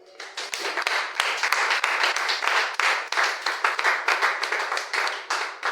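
A church congregation claps and applauds in acclaim of the Lord, a dense, lively burst of many hands in uneven rhythm that carries on without pause throughout.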